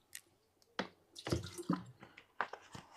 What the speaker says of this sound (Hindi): चेक करने के लिए हम थोड़ा सा पानी डालेंगे